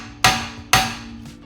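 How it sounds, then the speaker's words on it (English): Hammer driving a chisel to knock out the front wheel bearing shell on a 2006 Honda Jazz: two sharp, loud metallic strikes about half a second apart, then a fainter third tap, alone in a workshop with a steady hum. "all we do is get a chisel and one of these hammers and just"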